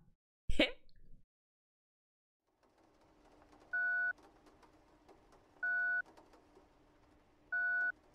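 A short thump, a pause, then three evenly spaced electronic two-tone rings of a telephone in the video game Dispatch, over a faint hum.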